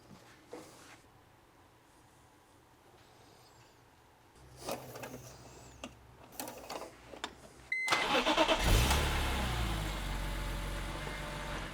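A BMW M car engine, freshly filled with 10W60 oil, cranks and catches with a loud burst, then settles into a steady, even idle close by after a stretch of faint clicks and handling noises.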